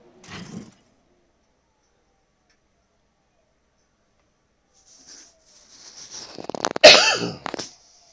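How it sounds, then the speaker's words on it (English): One loud, close cough near the end, harsh and breathy, preceded by a faint rustle and a short quieter noise at the start, with near silence in between. "Sorry about that cough."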